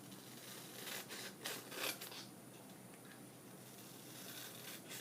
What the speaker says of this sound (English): then I will cut these up